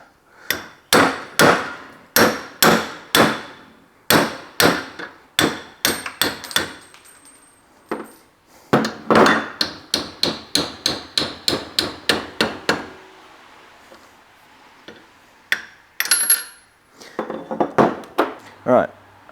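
Sharp metallic hammer blows drive a washer and socket onto a seal on a BMW E46 part, coming in rapid close runs of strikes with brief pauses and a voice heard between them.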